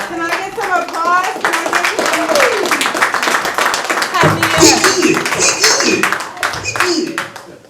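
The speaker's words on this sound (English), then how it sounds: "Can I get some applause?" Applause and clapping from an audience at a live comedy show, dense and sustained, with cheering voices and talk mixed in throughout.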